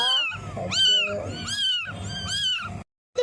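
Abandoned kittens by a roadside cry out in loud, high, insistent meows, about four drawn-out calls in quick succession, close to the listener, ending in a brief silence.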